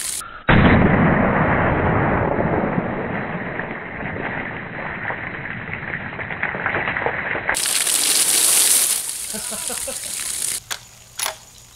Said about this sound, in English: Here we have a Ruger American bolt action rifle.